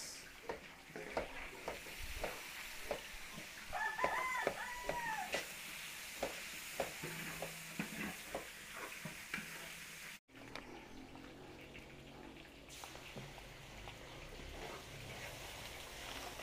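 Onions sizzle steadily in a pan while being stir-fried for a large birthday feast, with repeated scraping and stirring clicks over the frying hiss and a brief break near the middle.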